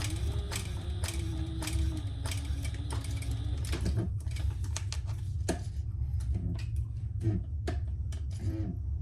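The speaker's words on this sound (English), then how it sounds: "we're going to do 2 rows of stitching" A sewing machine runs steadily, stitching two parallel rows along a fabric pattern piece, with a continuous low mechanical hum and bursts of rapid needle clatter broken by short pauses.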